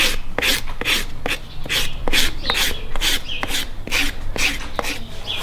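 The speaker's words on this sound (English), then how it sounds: "then back to the other heel, using his rasp to kind of create that level bearing surface" A farrier's rasp files a horse's hoof to level the heel bearing surface while shoeing an English sport horse, giving steady, close, rhythmic rasping strokes repeated about twice per second with no talk.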